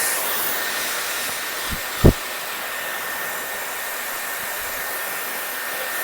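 A Dyson Airwrap hair styler blows hot air in a steady, loud hiss throughout, with a couple of faint knocks partway through and no talking.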